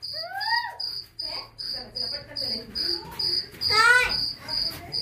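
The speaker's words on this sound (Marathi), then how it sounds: "रात किडे ओरडतात इथं" Crickets and other night insects chirping outdoors, a steady high pulsing trill repeating evenly throughout, with a brief birdlike whistle mixed in early and again near the end.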